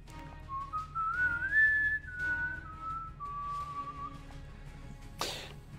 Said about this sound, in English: Whistles just pierced through the mic.